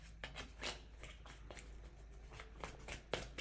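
A deck of tarot cards is shuffled by hand, giving a quiet string of soft riffling slaps and rubs at an uneven rhythm, close by and with no talking.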